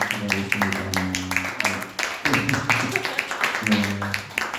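Church youth congregation clapping together in encouragement of a teacher, brisk rhythmic applause from a small group, close and lively over a sustained musical tone.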